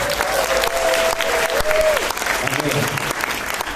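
Seminar audience at an insurance business presentation clapping in agreement, a loud, continuous burst of applause with a voice speaking over it partway through.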